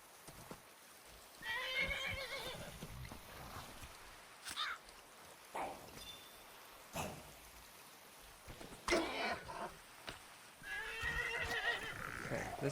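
A horse in a video game whinnies twice, near the start and again near the end, with short clip-clops and a soft patter of rain between the neighs.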